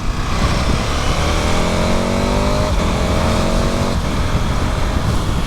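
A 2022 KTM 1290 Super Adventure S motorcycle engine drones loudly and close throughout, rising in pitch through gear changes with a steady roar and wind rush, no talk over it.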